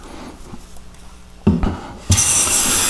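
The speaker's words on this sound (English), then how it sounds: "take a fine smoothing shaving where I'm planing more air than wood" A hand plane takes fine smoothing shavings on white oak, quiet light rubbing at first, then two sharp, bright rasping strokes, the second continuing as a steady hiss; no speech.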